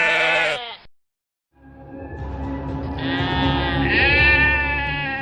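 Sheep and goats bleat loudly and close by, their wavering calls overlapping, with a short silence between the first cry and a longer chorus of bleats.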